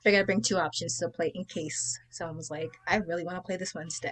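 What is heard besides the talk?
None of the usual background noises is heard.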